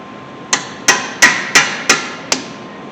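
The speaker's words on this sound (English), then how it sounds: "take your 12mm wrench, take the top bolt loose" Six sharp metallic knocks, evenly spaced about a third of a second apart, each with a short ringing decay, as a 12mm wrench works loose the brake caliper bolts on a 2013 Honda Civic during a brake and rotor job.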